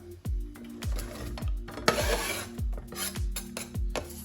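Chopped vegetables for a Cypriot turlu seasonal stew tipped into a cooking pan, a run of repeated knocks and scrapes of knife and board against the pan, close and clear with a brief rustling burst, no talking.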